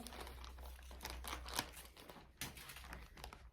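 A cosmetic headband is unpacked from a crinkly plastic packet, giving a quiet, steady run of close crackling and rustling with a few sharper crinkles and no talking.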